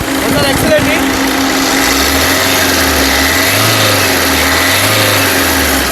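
A 2017 Maruti Suzuki Ciaz ZDI diesel engine idles with a steady low hum and a slight slow rise and fall in pitch, heard close and continuous.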